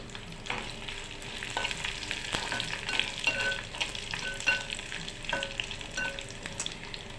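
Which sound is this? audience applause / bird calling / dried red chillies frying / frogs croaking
dried red chillies frying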